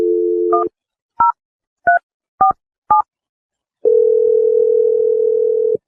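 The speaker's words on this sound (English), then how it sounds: "I'm going to dial Wendy's phone number" A telephone dial tone, followed by five separate DTMF keypad beeps spaced about half a second apart, then a steady ringback tone as a call to a woman's number goes through on a radio show, clear and close, with no talking.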